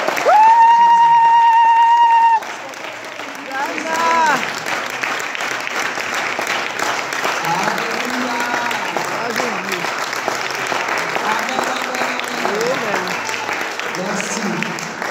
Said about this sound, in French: Est-ce qu'on peut acclamer une minute le Seigneur?